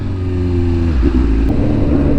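Close, loud engine of a BMW S1000RR motorcycle with a custom full exhaust and the catalytic converter removed, idling with a deep rumble that dips and shifts midway, then churns on unevenly with crackly pops.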